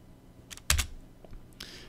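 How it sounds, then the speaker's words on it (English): Computer keyboard keys pressed while drawing in AutoCAD: a couple of light clicks followed by one louder, sharper keystroke, likely the space bar, then a few faint taps, close and alone without talk. "I'm going to press the A key on my keyboard, so down here for arc, and I press space"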